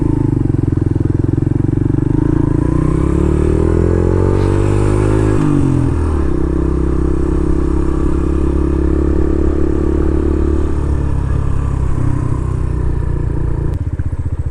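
Motorcycles pass by close and loud. One engine climbs in pitch as it approaches, then drops away as it goes past, with steady engine roar and some clatter continuing throughout.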